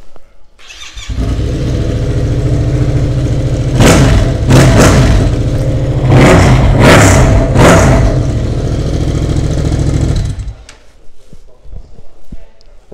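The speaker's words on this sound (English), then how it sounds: "I'll give it a fire up so you can have a listen to it" A 2018 Yamaha MT-07 ABS motorcycle engine fires up after a second or so and idles loudly and close by, with several sharp throttle blips rising in pitch before it cuts off, leaving quieter background noise.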